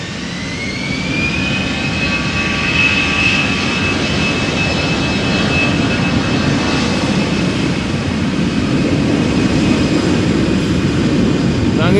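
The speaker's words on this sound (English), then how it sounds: "Ah, Boeing C-17 GLOBEMASTER, how nice, awesome." A US Air Force Boeing C-17 Globemaster at Amsterdam Schiphol Airport gives a sustained loud jet-engine roar with a steady high turbine whine, constant throughout.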